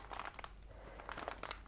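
Soft plastic packaging being crumpled and crinkled by hand, a few bursts of close, crackly crunching separated by a brief lull.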